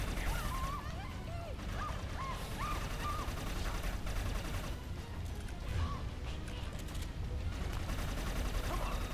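Gunfire in the shooter game Inversion comes as dense, rapid bursts and crackling volleys over a busy battle din, with scattered shouts and effects in the mix.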